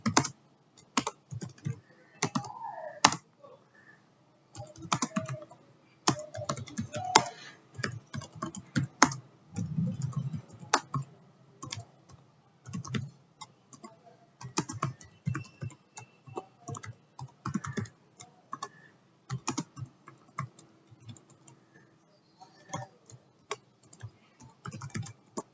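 Typing a search query on a computer keyboard, with irregular bursts of quick, close key clicks separated by short pauses, fairly quiet and alone.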